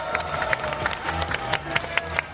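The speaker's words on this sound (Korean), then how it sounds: "큰 박수로 환영해 주시기 바랍니다" Crowd at an outdoor election-fraud protest rally in Daegu clapping and cheering together, a dense steady wash of applause with scattered shouts, fairly close and loud, lasting a couple of seconds.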